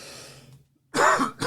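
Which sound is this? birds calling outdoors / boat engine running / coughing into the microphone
coughing into the microphone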